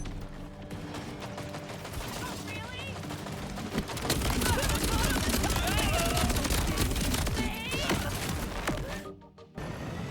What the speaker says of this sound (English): The more I use the Peacebreaker cannons, the more I love them.